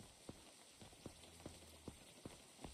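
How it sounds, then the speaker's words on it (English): Soft, evenly spaced drips of rain coming through a ceiling in the video game Unturned fall one after another in a slow, steady rhythm over a faint background hiss, quiet and alone. "Don't even know why rain comes through the ceiling."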